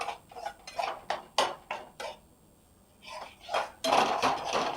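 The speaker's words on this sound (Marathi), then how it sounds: "या बेसनाला छान असा ब्राऊन रंग येईपर्यंत आपण या तेलामध्ये भाजून घेऊ" Gram flour roasts in sesame oil while a spoon scrapes and taps a metal pan in uneven bursts, close and clear, with a short quiet pause midway.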